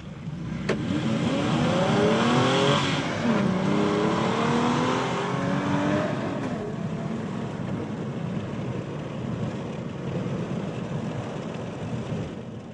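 A car with a 228 kW 3.8-litre V6 petrol engine accelerates hard from a standstill, its engine note climbing through the gears in loud rising sweeps before settling into a steady, fading roar.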